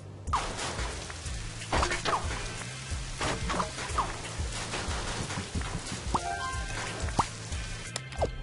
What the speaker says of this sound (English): Okay, rain.